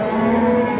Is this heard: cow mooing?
yes